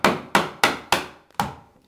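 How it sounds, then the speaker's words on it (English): Sharp wooden cracks sound as nails pop from a baseboard being pried off a wall with a screwdriver and hammer: five loud, close snaps in quick succession, each decaying fast, with a faint tick between the last two. "Now we heard the nails pop there."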